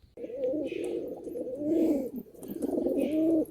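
Several Giribaz pigeons coo in a loft, producing continuous low rolling coos in three long swells, close and fairly loud, with faint higher bird sounds above and no talking.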